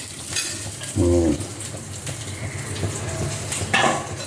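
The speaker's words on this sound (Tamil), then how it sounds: "இந்த உளுத்தம் பருப்பை வறுத்துட்டு இந்த கருவேப்பிலையும் இதை போட்டு வறுத்துட்டு" Urad dal and curry leaves roasting in a pan give a soft, steady sizzle, with a louder burst of frying around the middle and scraping stirs near the end; no one speaks.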